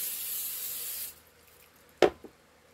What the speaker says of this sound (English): I'm gonna spray it down as good with her spray.